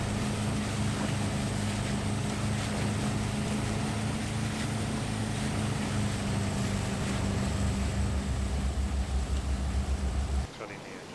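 A boat's motor drones loud and close in a steady low rumble for about ten seconds, then cuts off abruptly, leaving only faint background noise.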